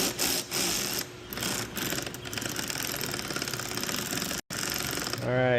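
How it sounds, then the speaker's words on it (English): Ratchet wrench tightening a bolt while installing a splash guard on a 2023 Ford Raptor R, with rapid close clicking pawl bursts, a brief pause, then more ratcheting. "We're gonna go ahead and install that last bolt up in there."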